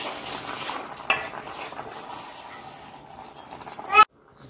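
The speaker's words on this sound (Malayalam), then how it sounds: "ഇളക്കി കൊടുക്കുക കേട്ടോ. പതിയെ ഇളക്കി കൊടുത്താൽ മതി." Rabbit biryani masala being stirred slowly in a pan: a soft, close scraping and gentle sizzle, fairly quiet, with one sharp clank partway through and a louder scrape just before it stops abruptly.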